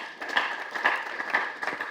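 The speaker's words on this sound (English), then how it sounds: "give God a big hand clap." Congregation at a national church delegates assembly giving a round of hand clapping, moderate applause with rhythmic bursts of claps over a continuous room murmur.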